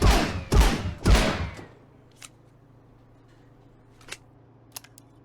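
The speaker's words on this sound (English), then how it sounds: "Hip firing with recoil control by slowing down the rate of fire." Hip-fired gun bursts in the video game Marauders, fired slowly for recoil control: three loud, close shots in quick succession, then quieter mechanical clicks and a low hum.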